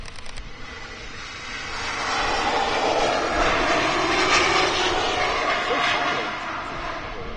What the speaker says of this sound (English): Here we go. Embraer E2. The KLM.